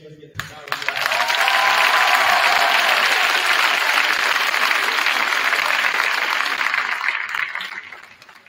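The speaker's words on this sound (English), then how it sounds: "Let's get the round of applause." A school gym audience claps and cheers for the cross-country team, a dense, loud wash of applause that swells quickly, holds steadily for several seconds, then tapers off at the end.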